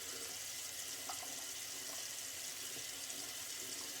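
Water runs steadily from a tap as a shaver blade is rinsed beneath it, a constant soft hiss with no voices.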